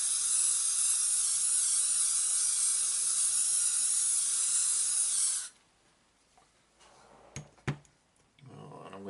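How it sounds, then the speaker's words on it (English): A long continuous hiss of hairspray from an aerosol can sprayed onto model bocage bushes for wargaming terrain, loud and close for about five seconds, then stopping, followed by a few soft handling taps. "So let's just give it a spray."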